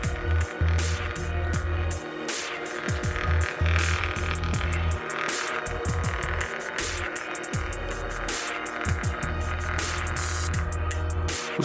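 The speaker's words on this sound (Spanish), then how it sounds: "Ustedes pueden oír el sonido del funcionamiento mientras se está imprimiendo la plantilla." A thermal printer prints a tattoo stencil, giving a loud, continuous mechanical whir with throbbing low rumble and rapid ticking, close and steady throughout, with no voices.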